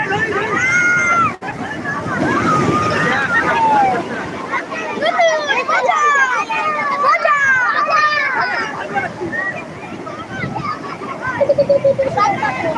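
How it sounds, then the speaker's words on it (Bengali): High sea waves surge and break at the beach at New Digha, a broad rushing wash under a crowd of lively shouting and chattering voices and excited talk throughout. "উঁচু একটা ঢেউ আসছে উঁচু একটা ঢেউ আসছে"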